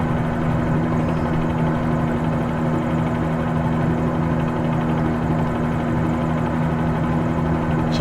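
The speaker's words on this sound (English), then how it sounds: "It's a lovely helicopter." Steady, loud helicopter engine drone in Microsoft Flight Simulator 2020 with a constant low hum and rotor whine, unbroken throughout with no voices.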